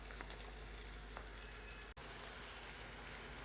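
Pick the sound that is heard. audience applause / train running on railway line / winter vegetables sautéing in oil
winter vegetables sautéing in oil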